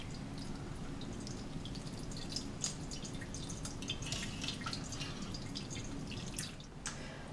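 Fresh homemade ricotta drains through cheesecloth, giving a close, continuous patter of fine drips and trickling liquid that holds steady for several seconds, with no voices.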